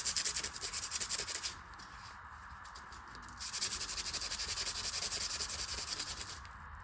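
Sandpaper or emery cloth rubs a motorcycle clutch part on a Harley-Davidson Servi-Car in quick, even back-and-forth strokes, stopping for about two seconds before starting again, up close.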